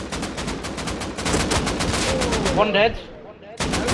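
Rapid automatic gunfire in Rust Console Edition, a dense burst of repeated shots that fades briefly and then resumes, with a player speaking over it.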